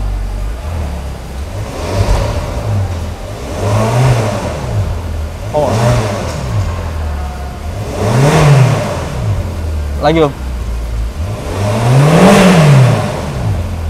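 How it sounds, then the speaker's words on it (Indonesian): A powerful car engine is revved repeatedly, each blip rising and falling in pitch in a slow rhythm, loud and close, with a brief voice between revs. "Kita coba geber kali guys."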